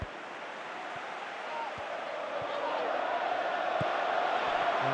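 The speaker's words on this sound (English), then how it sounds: "you can hear how the crowd are reacting to this too" A football video game crowd in PES 2018 swells in a steady roar after a near-miss chance, building gradually louder with a few dull thuds beneath, with no voices distinct.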